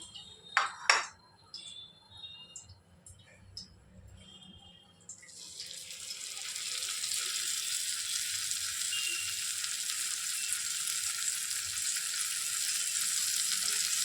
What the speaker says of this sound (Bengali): তেলটা হালকা গরম হয়ে আসলে এবার আমি একে একে লাউ পাতায় মোড়া মাছগুলো কড়াতে বসিয়ে দেবো।